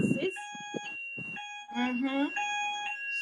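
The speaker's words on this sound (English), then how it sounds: "Sorry, there's fire alarm where I am. It's just a test." A hotel fire alarm under test sounds repeated steady electronic tones that start and stop in pulses, heard at moderate distance while a person talks over it.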